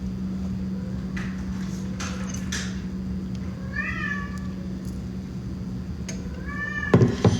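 A cat meows from outside a closed door wanting to be let in, a few drawn-out rising cries over a steady indoor hum, with a knock or thump near the end.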